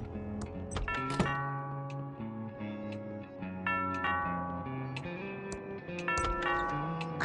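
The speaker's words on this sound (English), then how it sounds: "That sounds like the doorbell." A doorbell chimes in the adventure game Thimbleweed Park, a run of bright ringing tones layered over steady game music.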